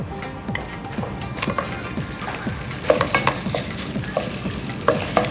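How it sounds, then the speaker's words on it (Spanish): Chicken breasts browning in a hot pan for mustard chicken, a steady close sizzle broken by repeated scraping stirs and light clinks of a utensil, with no voices. "vamos a dorar las pechuguitas de pollo"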